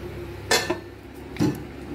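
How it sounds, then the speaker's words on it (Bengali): A pot of mutton being covered, with two distinct metallic clanks of a lid knocking against the rim, close and moderately loud over a low kitchen background. "এবার এর মধ্যে আমি গরম জলটা দিয়ে দেবো, এবার ঢেকে রেখে দেবো।"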